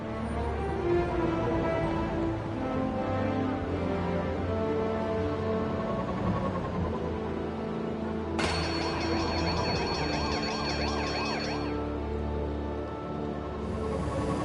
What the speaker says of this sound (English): you are present at the scene of an active alarm